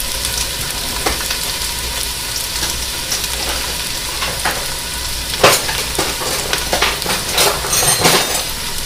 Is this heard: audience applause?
no